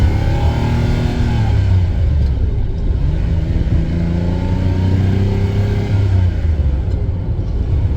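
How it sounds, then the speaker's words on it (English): A Lamborghini Countach engine revs and rumbles loudly and close, pitch rising and falling in smooth sweeps as it accelerates. "And the sounds, there's so many mechanical sounds."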